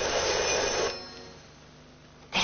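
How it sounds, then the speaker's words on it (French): A telephone rings, one loud bell-like burst near the microphone that stops and starts again at the end, with no one talking. "Téléphone."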